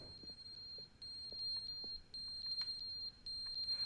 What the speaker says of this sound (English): Oh, the fire alarm ran out of batteries.